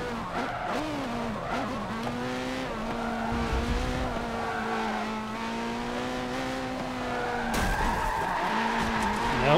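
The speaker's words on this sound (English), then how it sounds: "Spinning out to such a degree that it spins me around" Tyres skidding and squealing as a car spins out in the racing video game Forza Motorsport 7, a sustained wavering tonal screech over engine drone lasting several seconds, with a sharp scrape near the end.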